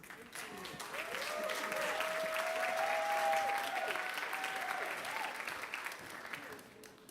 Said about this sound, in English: you're clapping for yourselves